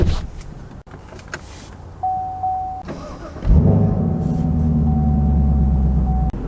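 Power-adjustable leather Recaro seat in a new Chevy Camaro SS whirs as its electric motor runs steadily for about three seconds inside the quiet cabin, with faint clicks and thumps before it.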